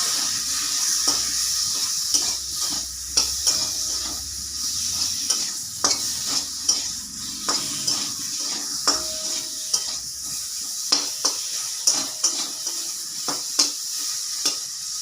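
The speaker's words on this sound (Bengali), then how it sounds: "দিয়ে গ্যাসটা কমিয়ে নাড়লাম।" Ground ginger-cumin paste, turmeric, salt and chilli powder fry over lowered gas in oil in a pan for a fish-head cabbage ghonto, with a steady sizzle under repeated scraping stirs of a utensil against the pan, close and alone.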